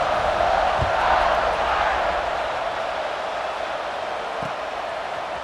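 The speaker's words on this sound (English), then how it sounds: "this crowd is feeling themselves after that last drive" A stadium crowd roars in EA Sports College Football 26 during a fourth-quarter kickoff in a tied game, a loud, continuous, dense cheer with a couple of dull thumps underneath.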